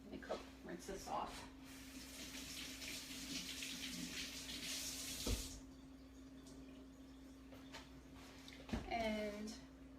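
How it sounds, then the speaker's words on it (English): Tap water runs into a kitchen sink as food is rinsed under it, a steady hiss that swells louder midway, with a person talking over it throughout. "Let me rinse this off."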